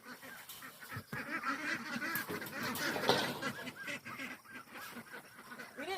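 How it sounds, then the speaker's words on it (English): A flock of farm ducks quacks and honks in a busy, overlapping chorus at close range during morning chores, with a few faint voices underneath. "So I start with the ducks."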